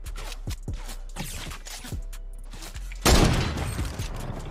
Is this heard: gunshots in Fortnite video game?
yes